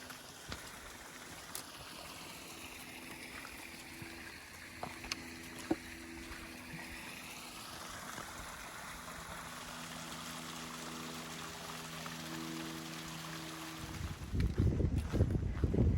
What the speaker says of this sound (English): we came across this beautiful waterfall